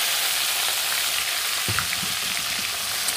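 Onion and tomato drop into hot oil already frying garlic, green chili and asafoetida, giving a loud, continuous sizzle with a soft thump as they land midway.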